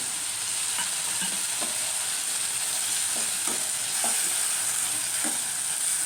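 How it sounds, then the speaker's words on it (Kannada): Ridge gourd frying in a spiced tempering, giving a steady close sizzle with occasional soft scrapes as it is stirred in the pan, no voices. "ಹೀರೆಕಾಯಿ ಒಗ್ಗರಣೆಯಲ್ಲಿ ಬೇಯ್ತಾ ಇದೆ."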